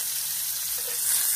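Chicken pieces frying in oil on a clay roof tile over a high flame give a steady, close hiss of sizzling with no talk.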